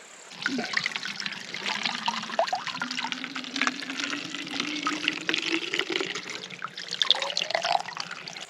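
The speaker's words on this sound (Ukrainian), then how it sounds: "Прийшли до джерела, набираємо водички." Water collected at a natural spring pours and splashes steadily into a container nearby, with a rising gurgle as the vessel fills.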